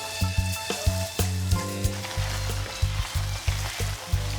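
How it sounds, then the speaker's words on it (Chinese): Chopped onions fry in hot lard heated to about 150 degrees, a loud steady sizzle with rhythmic scraping and tossing strokes of a spatula or wok ladle repeating about every half second. "煸到洋葱开始发白"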